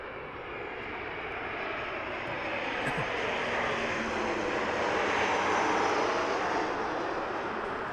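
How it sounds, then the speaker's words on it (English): A Southwest Boeing 737 airliner arriving at Las Vegas airport produces a loud, broadband jet roar that swells gradually and holds steady throughout, heard outdoors without talk. "This is gonna be Southwest Flight SWA 408 coming in from Los Angeles, and it's gonna be a Boeing 737"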